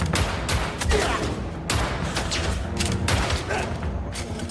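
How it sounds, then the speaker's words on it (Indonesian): Gunfire exchange in a Korean spy action film about a rogue agent, with dense overlapping shots and bursts continuing loud and steady across the whole stretch under a busy soundtrack. "Ketua Kang pun baku tembak dengan sekelompok orang yang tidak dikenalnya"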